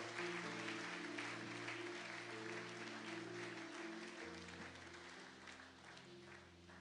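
A church congregation applauding in acclaim of the Lord, sustained clapping from a crowd with a held musical tone underneath, steady and close before gradually easing.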